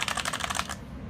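Quick burst of keystrokes on a budget tenkeyless keyboard, several close, crisp clicks in fast succession lasting under a second before stopping.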